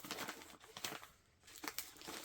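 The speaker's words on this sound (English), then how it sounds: "Carlos, you've wrapped it very well. I've got the trusty scissors." A well-wrapped parcel is unwrapped by hand, with sharp crinkling and tearing bursts of packaging that dip briefly into a quieter pause before more rustling, quiet and close.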